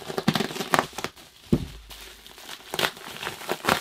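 A cardboard package box is cut open and its packing crinkled: soft irregular rustles and a few sharp tearing bursts, close and moderately loud, with no talking.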